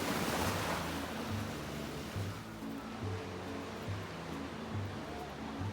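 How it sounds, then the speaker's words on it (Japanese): Soft, steady wash of ocean surf rolling in from a distance at Enoshima, Japan, a broad continuous rush with faint low hum beneath and no voices. "遠くから聞こえる波の音や気持ちのいい店内の雰囲気が欲しかったので"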